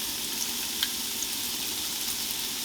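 Ingredients placed in oiled pan for homemade lasagna, a close, steady hiss of frying with faint crackles and pops throughout, no voices.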